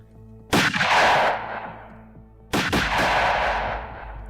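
Two loud, booming gunshots from muskets or cannons in a strategy video game, each a sharp blast followed by a long rumbling decay, spaced about two seconds apart.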